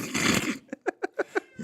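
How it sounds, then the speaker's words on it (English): A house cat interrupts a live talk show, giving one drawn-out noisy cry and then a quick run of five or six short, evenly spaced meows, close to the microphone. "Get that kitty out of here, man"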